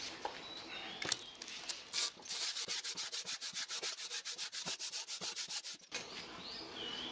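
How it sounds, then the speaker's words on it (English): A metal milling vice part is rubbed back and forth on a sheet of sandpaper, giving a close, rhythmic scratching stroke roughly every quarter second that settles into an even pattern after a few irregular scrapes. "Shame to rub it on this piece of sandpaper"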